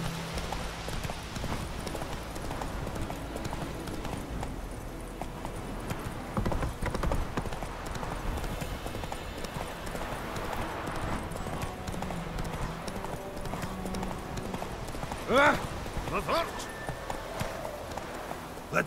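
Horse hooves pound in a steady galloping clip-clop throughout a ride in The Witcher 3, with game ambience and a short snort or whinny near the end, while a voice speaks over it.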